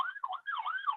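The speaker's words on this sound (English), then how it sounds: "There's an ambulance. He's going the other way." An ambulance siren wails faintly in a rising and falling electronic sweep, repeating smoothly. It is heard alone at low level, as if from outside at a distance.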